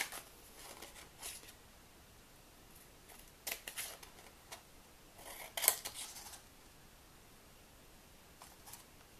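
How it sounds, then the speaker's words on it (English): Scissors snip through patterned paper while trimming around the top of a 3-inch gift tag, giving a few crisp, close cutting strokes in short bursts over a quiet background, with no talking. "So now I just have to cut around the top."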